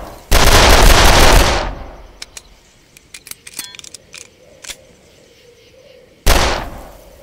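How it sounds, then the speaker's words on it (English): An old rifle fires in the video game Darkest of Days, set at the Battle of Little Bighorn: one loud, near, broad blast rings out, then a stretch of faint clicks and rattles, then a second loud shot. "See if you can sight in that old gun."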